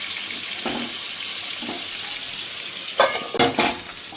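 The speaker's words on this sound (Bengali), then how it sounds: "মাছটা ভাজা হয়ে গেছে।" Katla fish fries in a pan with a constant hiss of oil, broken by a few soft stirs and then louder scraping clanks near the end.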